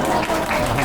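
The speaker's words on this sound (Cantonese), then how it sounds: "我哋要為阿蔣老良拍掌" A church congregation claps together in a steady, dense wash of applause during a Christmas child dedication service, loud and continuous, with no speech.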